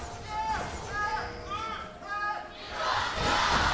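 Esports arena crowd at a 2025 LCK League of Legends match (BRO vs DK) cheering and chanting in rising, rhythmic waves at the start of game one, loud and close, swelling into a broad roar at the end.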